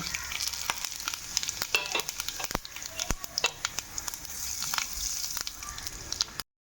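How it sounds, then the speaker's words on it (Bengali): Cumin seeds, bay leaves and dried red chillies splutter in hot oil, a quiet close sizzle broken by sharp scattered pops and crackles, without talk. "জিরে এবং তেজপাতাটাকে ভালো করে ভেজে নেব"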